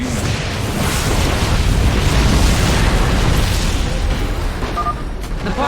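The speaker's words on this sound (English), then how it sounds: "The particle cannons have been destroyed" Particle cannons being destroyed in a StarCraft II cinematic, a loud sustained rumbling explosion with rolling debris and crackle, fading slightly toward the end.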